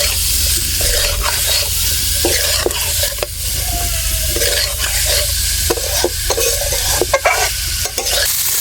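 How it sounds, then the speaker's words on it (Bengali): Cauliflower and potatoes, already fried, being stirred and sautéed in a pan for a Bengali fish curry, with a steady close sizzle broken by repeated scraping stirs and clinks. "ভেজে রাখা ফুলকপি আলুগুলো আরও 2-3 মিনিট এখানে কষিয়ে নেব।"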